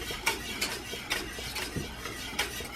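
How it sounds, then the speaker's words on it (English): A whisk working through a thick, bubbling sauce in a pot for scalloped potatoes, with rhythmic metallic scrapes and taps against the pot roughly every half second, close and clear without talk. "I'm just going to keep whisking here until we are at a boil"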